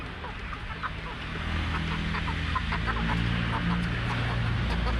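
Four-month-old Darag native chickens cluck softly at a moderate distance, scattered short calls over a steady low background hum, with no talking.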